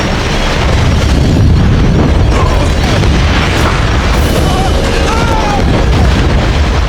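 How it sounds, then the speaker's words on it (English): A massive explosion sound effect, a gasoline-fed blast at an underwater base, roars as a loud, dense, sustained boom and rumble that fills the whole stretch without letting up. "it triggered a massive explosion"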